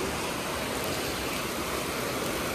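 Floodwater flowing near a temple, a dense, continuous rushing wash of water that stays even and unbroken throughout, close and moderately loud.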